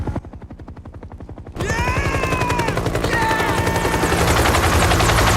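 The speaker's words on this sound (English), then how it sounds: "it's a medical chopper, man" Huey medical helicopter in a war film arriving over a battlefield, a loud steady rotor chop joined by rising whine and engine roar, with bursts of gunfire and tones layered in as the sound swells and stays close.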